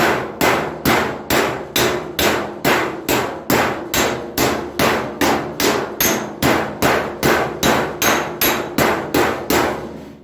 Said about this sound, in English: now I've got the dolly right here, and I'll drive the metal down to it